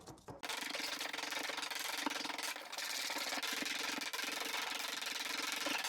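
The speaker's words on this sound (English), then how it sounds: "I want to pulverize this garlic in my mortar and pestle." Garlic and salt are ground in a mortar and pestle, producing a close, steady gritty rubbing and scraping that runs almost without pause.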